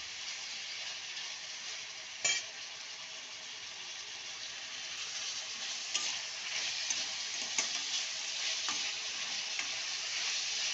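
Ivy gourd and chillies fry in hot oil for chutney with a steady, bright sizzle. A few sharp stirring scrapes cut through the sizzle, which rises slightly over the stretch and continues without talk.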